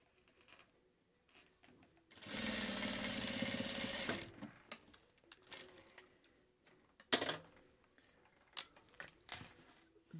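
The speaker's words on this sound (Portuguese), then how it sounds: "Aí eu viro pro direito, puxo bem o meu forro e vou rebater essa costura." A sewing machine topstitches a seam on the lining of a fabric key wallet in one loud, steady run of about two seconds. Quieter handling clicks and taps come before and after it.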